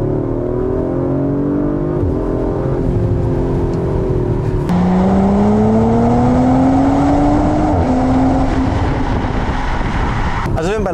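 Audi RS4 B9 (2022) engine pulling up through the revs in everyday driving, a rising tone climbing steadily with a shift, heard from inside the car over constant road noise.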